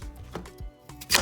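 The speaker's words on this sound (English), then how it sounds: "So we're gonna cut up our sweet potato into nice big pieces." A knife chops a sweet potato into big pieces on a board, a few distinct thuds in quick, uneven succession, close and fairly soft.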